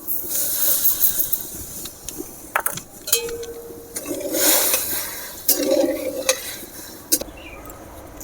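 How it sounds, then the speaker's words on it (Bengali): Sugar goes into hot water in a wok to make syrup, with an irregular scrape and stir of utensil on metal and a soft hiss of heat, heard close up. "জল গরম হয়ে গেছে। এবারে আমি চিনি দিয়ে দেব।"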